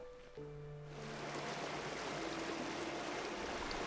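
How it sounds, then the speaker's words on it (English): A stream flows in the British countryside. Its broad, steady rushing swells in after a moment and continues evenly and close by, with no voices. "I've got to top up my water from the stream"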